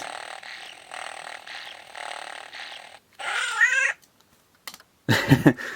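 A Star Wars Loth cat toy gives a steady mechanical whir, then falls quiet before breaking into short electronic meowing and yowling bursts separated by pauses, loud and close.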